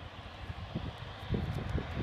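A Flybe airliner at Southend Airport is heard in the distance as a low engine rumble, moderately faint and growing slightly louder, with some wind buffeting the microphone.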